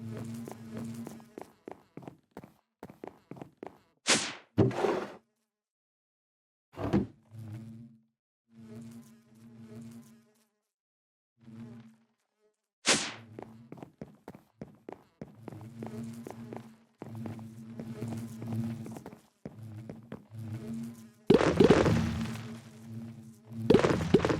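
Insect-like buzzing bursts of WannaBees in the modded Minecraft pack All The Mods 10, repeated in short patterned pulses with brief gaps, fairly close and moderately loud, with no talking.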